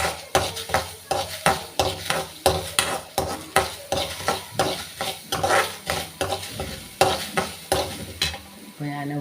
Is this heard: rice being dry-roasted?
yes